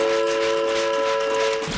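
Sound effect of a steam train, a steady, loud, sustained whistle-like horn tone held for under two seconds over a rushing rail rumble, no talk.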